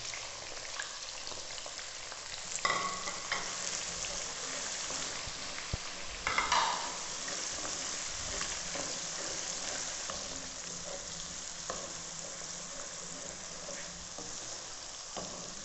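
Medium-sized sliced onion is added to hot oil with whole spices, setting off a constant close sizzle, with a couple of louder spattering bursts as the slices land, then an even frying hiss and no voices.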